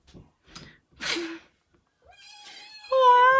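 A cat makes a few faint, short sounds, then lets out a loud, drawn-out meow that rises and swells toward the end, close to the listener.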